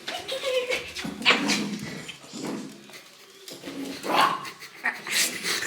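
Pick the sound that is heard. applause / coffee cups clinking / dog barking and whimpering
dog barking and whimpering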